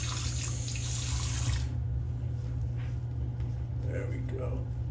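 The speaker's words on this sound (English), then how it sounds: "Forgive the tap running down there, but it is called wet shaving for a reason." A bathroom tap runs steadily into a sink during wet shaving, a constant close hiss of water that drops in level partway through, with someone talking over it.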